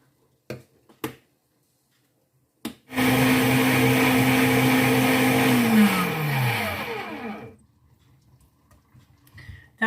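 A kitchen blender grinds baked eggplant and other roasted vegetables for a winter spread, starting after a few clicks, running loud and steady for about four seconds, then winding down in pitch as it stops.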